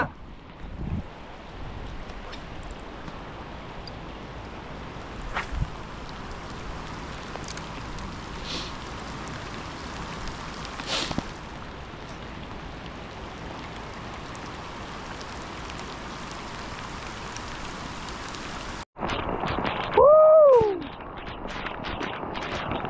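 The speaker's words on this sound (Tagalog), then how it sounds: "Yan lang, lalaki yung ulan." Steady rain hisses across open water with a broad, even wash of noise, interrupted near the end by a brief sharp rising whine.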